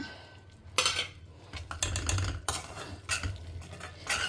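Tomato and onion masala with added spice powders is sautéed in a pan, with bursts of spoon scraping and clattering against the metal over a low background sizzle, close up and without speech.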